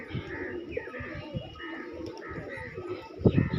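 Pigeons coo in a loft, their soft, repeated throaty calls overlapping close by, with a voice talking faintly underneath and a brief louder flutter near the end.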